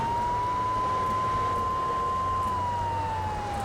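A fire truck siren wails in GTA 3 around Portland, a steady, loud sustained tone that holds level before sliding slightly lower near the end, over a low engine rumble.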